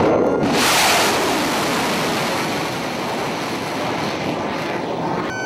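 A combat aircraft roars through the sky during coalition strikes, a loud broad jet rush swelling early then holding steady for several seconds with no voices.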